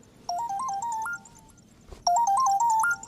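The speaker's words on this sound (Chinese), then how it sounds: "电话。" A melodic phone ringtone plays a stepped electronic tune twice, loud and clear, with a short silent gap between the bursts and no voices over it.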